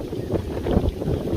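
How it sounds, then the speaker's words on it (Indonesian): Strong wind buffets a camera microphone outdoors near a mining area, a loud, continuous low rumble with gusty surges and no voices. "Kencang banget anginnya nih. Kalau teman-teman bisa dengar di suara kamera kayak gini."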